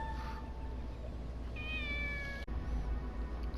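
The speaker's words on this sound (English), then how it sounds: "There's the kitten." A kitten in the video game Shenmue lets out a couple of soft, high meows over a quiet ambient background, brief and gentle, with a small click near the end.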